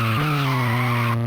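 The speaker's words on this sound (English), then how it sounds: "I just wanted to touch on the car noises" Harsh, buzzy tire skidding from a Game Boy Advance racing game rings out as one continuous squeal with a steady, slightly shifting pitch, loud and alone.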